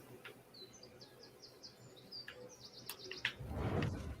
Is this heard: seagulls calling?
yes